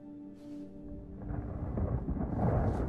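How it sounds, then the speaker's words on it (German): Rain and rolling thunder in the video game Wolfenstein: Youngblood, a steady low rumble that swells louder toward the end, with no talking. "Ich muss aus dem Regen raus."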